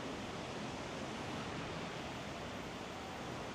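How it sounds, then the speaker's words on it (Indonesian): A river flows under the Metro bridge in Kepanjen with a steady, even rushing hiss. It is faint and continuous, with no voices. "Dan ini aliran sungainya"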